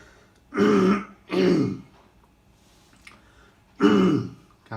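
A patient recovering from spinal fusion surgery gives three rough, weak throat-clearing coughs, spaced apart with quiet pauses between, close to the microphone.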